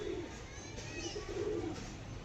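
Pigeons at a bird sale cooing softly in repeated low, rounded calls, faint against a steady background hiss.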